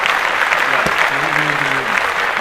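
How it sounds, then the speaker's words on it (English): A brief round of applause from a small group, dense steady clapping close by while a voice speaks over it. "Clap that up."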